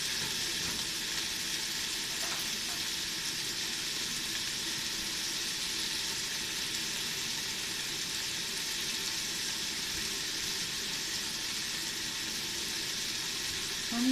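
Leftover meat and vegetables browning in a pan for nikujaga, a steady close hissing sizzle that continues evenly throughout without talk.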